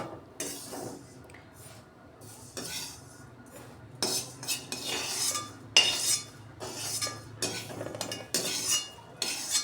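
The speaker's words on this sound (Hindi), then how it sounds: "तो तिल भी निकाल लेते हैं एक प्लेट में" Sesame seeds for til gur laddoos are scraped out of a pan onto a plate with a metal spoon, giving repeated close scraping and clinking bursts of cutlery against cookware.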